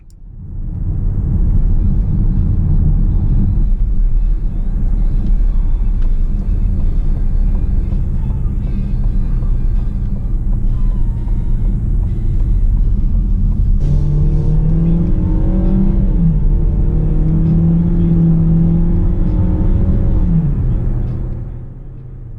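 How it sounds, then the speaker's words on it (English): A 2020 Ford Escape Titanium's 2-liter engine is heard from inside the cabin as it accelerates, giving a loud, sustained low rumble whose engine drone rises in pitch midway before easing off at the end. "The 2-liter engine definitely has plenty of pep."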